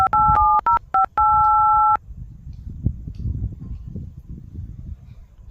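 Loud, clean two-tone dialing beeps from a telephone come in a quick run of short presses, then one long tone, followed by faint rustling and low room noise.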